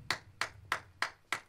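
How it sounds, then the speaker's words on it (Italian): A single person claps hands five times at an even, unhurried pace, each clap crisp and close, with short silent gaps between them. "Questo è l'applauso"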